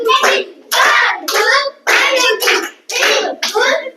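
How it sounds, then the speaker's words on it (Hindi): Children in a village school classroom in Tehri Garhwal, Uttarakhand perform a special clap, with loud group chanting punctuated by bursts of hand claps in a rhythmic pattern, close and lively. "बच्चों आपको स्पेशल ताली आती है बजानी?"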